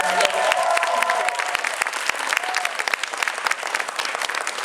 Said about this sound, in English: we want to give the Olsons a big round of applause